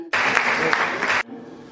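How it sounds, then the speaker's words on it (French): A conference audience bursts into applause, a dense wash of clapping that starts abruptly, holds for about a second and cuts off sharply into quiet room tone. "et applaudissez-vous vous-même"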